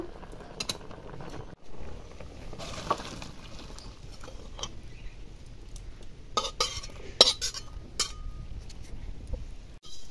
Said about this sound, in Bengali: সব রকম সবজি হালকা প্রায় সেদ্ধ হয়ে আসছে, এবার আমি ঢেলে নেব।